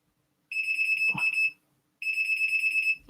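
A small alarm buzzer with dirt lodged inside gives two loud, steady electronic tones, each about a second long, separated by a brief pause, with a short clatter partway through the first one.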